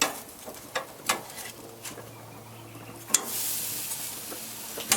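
Ham steak sizzling in a pan as it is flipped, with scattered sharp clanks and taps of the utensil over a low steady fry, then a louder hissing sizzle rising near the end, close up.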